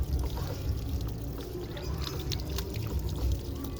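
Water runs steadily into an automatic washing machine, a continuous rushing and splashing fill with faint thuds, close and unbroken, with no talking.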